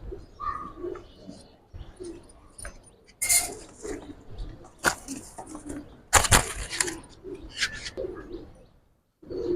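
A male Giribaz pigeon coos nearby in soft, repeated low calls, broken up by sharp bursts of handling and movement noise.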